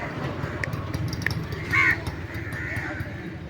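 Crows caw once or twice at a distance, faint above steady roadside traffic rumble at a truck stop along a highway.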